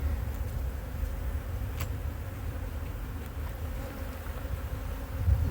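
Honey bees hum steadily around a brood frame lifted from a hive, a continuous close buzz with a low rumble beneath.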